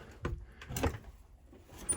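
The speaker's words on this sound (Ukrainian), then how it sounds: "перед цим прикрию двері, бо потім не половлю" A wooden door on a farm is pulled shut in cold weather, giving a couple of soft knocks and scrapes followed by a firmer thud, fairly quiet and close.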